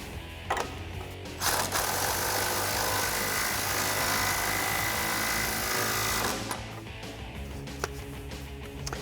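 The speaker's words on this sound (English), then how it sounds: "I'm going to take my 3/8 gun with my 16mm and tighten this up" A 3/8-inch impact gun with a 16mm socket tightens a nut on a 2012-2018 RAM 1500 rear sway bar, a loud continuous mechanical whir lasting several seconds, framed by brief clicks and clanks.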